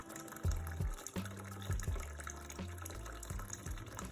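Water rushes vigorously into a toilet cistern after the supply tap is reopened, a steady close gushing fill with low gurgling pulses underneath, and no voices.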